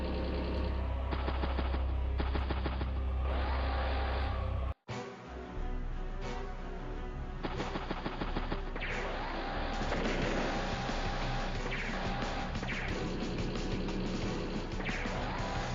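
Rapid bursts of gunfire and impact blasts from a battle in the video game Advance Wars: Days of Ruin, loud and continuous, broken by a brief cut to silence near five seconds.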